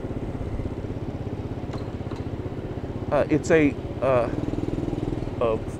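A SYM Symba scooter's small engine idles with a steady rapid putter after a kick start, and a person speaks briefly over it.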